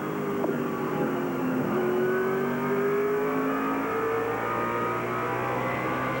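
NASCAR Featherlite Southwest Tour stock cars race down the backstretch of a 1996 oval track, engines droning and revving steadily as several cars pass at a distance, with no talk over them.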